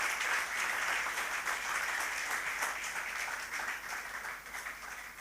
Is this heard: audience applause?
yes